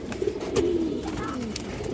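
A female pigeon coos softly and briefly beside other birds, while someone talks nearby under a faint background hum.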